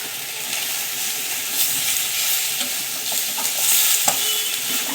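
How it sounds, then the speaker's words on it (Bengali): Flat beans, eggplant and vegetable stems fry in hot oil with a steady close sizzle. A spoon stirs and scrapes through them, adding small clicks and louder moments. "ভালো করে তেলের সঙ্গে ভাজতে থাকবো"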